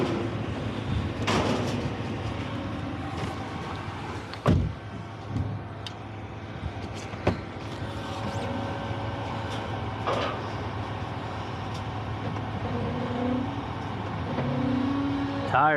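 A hotshot truck's engine idles with a low, steady rumble in snowy conditions, continuous and close throughout, with occasional knocks and rattles over the top.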